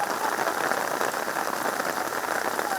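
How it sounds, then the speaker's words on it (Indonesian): Heavy rain pours down suddenly at an outdoor cooking spot, a loud, steady, dense hiss of drops hitting surfaces with no pauses. "Wis, hujan deras datang tiba-tiba."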